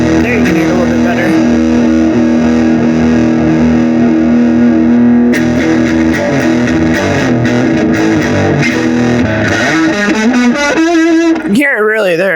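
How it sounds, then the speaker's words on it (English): Loud guitar through a chaotic fuzz pedal with the gain fully up, giving a harsh, tearing, ripping distortion that sustains throughout and breaks up near the end. "It's like a tearing, almost a tearing sound."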